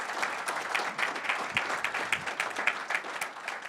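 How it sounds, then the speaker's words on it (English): A conference audience at a Minneapolis cybersecurity event gives a group round of applause, with a steady wash of many hands clapping, moderately distant and sustained throughout. "let's get a group round of applause"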